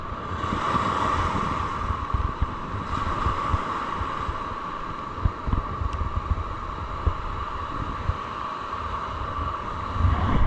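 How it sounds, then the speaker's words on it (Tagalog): Rough seas during a typhoon: a continuous, loud roar of wind buffeting the microphone and crashing waves, with occasional heavier thumps and no talking. "Grabing alon."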